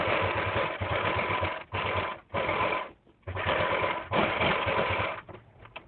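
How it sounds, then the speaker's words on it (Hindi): Sewing machine stitching a round seam on a Naira cut dress, running in steady bursts with brief pauses between them, close and loud with no voices. "अब यहाँ से लेके पूरे राउंड में सिलाई लगा लेंगे।"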